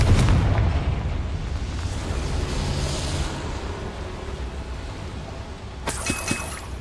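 A Confringo blasting spell explodes inside a small mine in Hogwarts Legacy, with a loud low boom at the start that fades into a rumbling tail, then a sharper crackle near the end.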